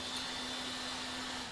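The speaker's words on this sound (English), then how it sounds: "me just turn off my washing machine" A washing machine runs with a steady hum and broad whirring hiss, constant and fairly close for the brief moment, with no talking.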